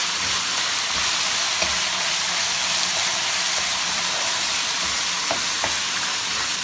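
Lamb sizzles steadily in a pan with harissa seasoning, a dense frying hiss running throughout while a utensil stirs, with a few faint scraping clicks mid-clip.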